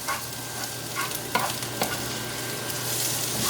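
Onions and peppers sizzle steadily in a pan for a corned beef hash casserole, with a few soft scrapes of stirring heard close by.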